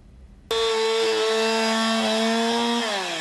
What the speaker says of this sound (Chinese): 消防人员拿着电锯，忙着将大树的树枝一一锯断